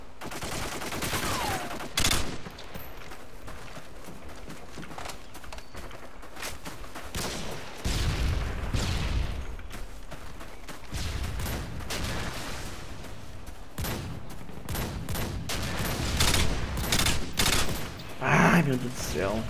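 Gunfire in Modern Warfare 2 crackles in repeated bursts and single shots across the clip, with loud heavy blasts in the latter half and someone talking over the action.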